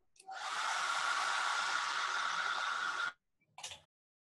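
A hair dryer blows on wet acrylic paint of a penguin, a steady broadband whoosh for about three seconds, then cuts off, followed by a brief short burst near the end.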